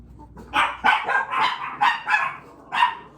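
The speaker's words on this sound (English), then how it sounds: "Would it really be a Flosstube if my dogs didn't bark?" Pet dogs bark indoors in a home, several loud, close yips and barks in an uneven run of about seven bursts, with no talk over them.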